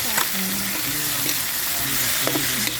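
Chicken meat dropped into a hot frying pan sizzles loudly and steadily in close-up, a dense continuous hiss with a few brief crackles and scrapes on top while bitter gourd cooking is underway.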